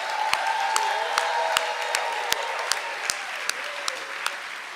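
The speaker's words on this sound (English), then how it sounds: "Give them a wild round of applause." An audience applauds at a live storytelling event, dense steady clapping with a few sharp individual claps standing out, sustained throughout at moderate loudness with no voices.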